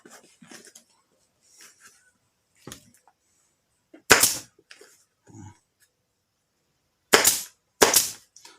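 An upholstery staple gun fires into a saddle with a backrest, several sharp isolated snaps spaced seconds apart, two landing in quick succession near the end, with faint handling noises between.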